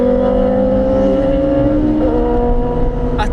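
Racing motorcycle on the Isle of Man circuit holds steady, loud engine drone with sustained harmonic tones, a slight pitch shift as it accelerates, running continuously and close throughout.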